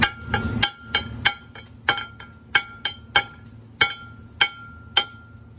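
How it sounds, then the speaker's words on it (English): Sharp metallic taps of a slag hammer chipping weld slag off an arc weld, about a dozen irregular strikes with short ringing decays, close and fairly loud. "I chipped off the slag"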